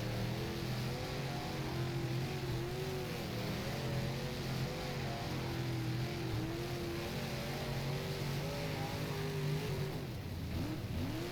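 An IMCA modified race car engine screams at the rev limiter along the straight at Volusia in rFactor, a loud, steady, buzzing drone with wavering pitch that bounces off the limiter, running throughout with no talk.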